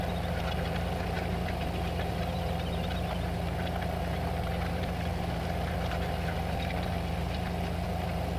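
Heavy Detroit diesel engine of a Case tractor pulling a disc in Farming Simulator 15, a steady low drone and rumble running continuously and fairly loud throughout, with no voices.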